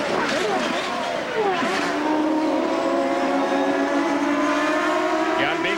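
IndyCar race cars from 1995 roar around the Road America circuit at Elkhart Lake, their engines a dense continuous howl with rising and falling pitch as cars pass, loud throughout.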